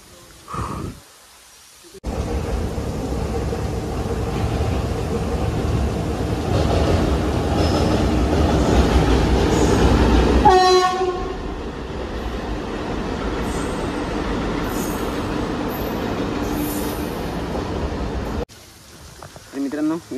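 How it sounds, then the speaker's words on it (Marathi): A Vande Bharat train rumbles loudly past near the Khopoli railway line by KP Falls, its long steady roar broken midway by a brief horn blast, then fading. "बरेच जण इथे वंदे भारत ट्रेन येणार आहे त्यासाठी वेट करत आहेत"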